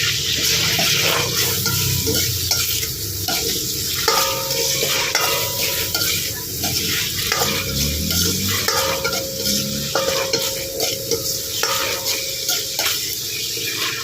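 Chicken liver fries in a pan with a continuous sizzle and repeated scraping and stirring strokes, close and steady, faint talk underneath.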